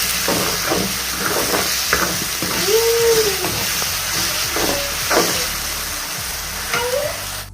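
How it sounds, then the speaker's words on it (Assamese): Fried onions and ginger-garlic paste hiss and sizzle steadily in a pan for a duck meat curry, with intermittent stirring scrapes and a few squeaky utensil sounds, loud and close with no talking. "এইখিনিও খুব ধুনীয়াকৈ ভাজি ল'ম এতিয়া।"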